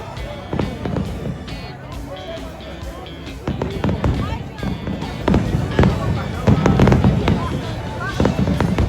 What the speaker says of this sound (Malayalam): കറക്റ്റ് 9 മണിയാകുമ്പോഴത്തേക്കും വെടിക്കെട്ട് സ്റ്റാർട്ട് ചെയ്തു.